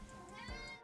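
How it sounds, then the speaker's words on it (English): A cat gives a single drawn-out meow, close and clear, lasting under a second. "Here comes the cat."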